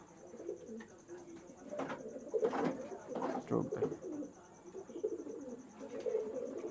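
Pigeons kept in a loft coo in a soft, rolling, continuous murmur while someone speaks briefly over them.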